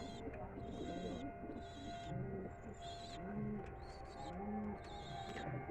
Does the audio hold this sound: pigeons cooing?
yes